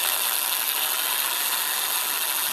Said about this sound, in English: drill a small hole in it.